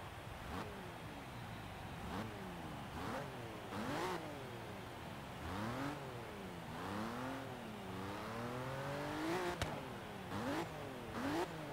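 A car engine revving in Forza Horizon 3, repeated rising and falling throttle blips with gear changes, fairly faint and steady, with no talk over it.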